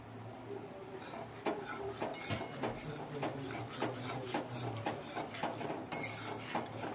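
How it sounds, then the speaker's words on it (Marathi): Gram flour and semolina dry-roasting in a pan over low gas, a steady soft scraping and rasping of a spoon against the metal with occasional light clinks, close and continuous with no talking. "आता बेसन सॉरी बेसन आणि रवा ही छानपैकी भाजणार आहे"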